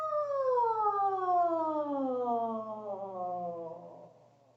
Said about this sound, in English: Okay, so we're going to do a continuous glissando.